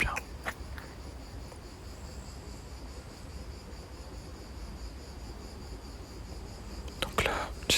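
Crickets chirp steadily outdoors during a nature walk with a dog, a thin continuous trill held under faint background noise, with a few soft knocks and rustles near the start and end.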